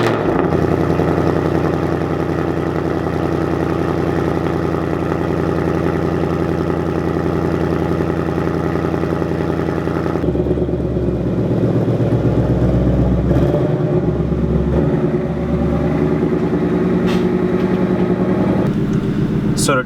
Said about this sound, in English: But yeah, let's just get a cold start.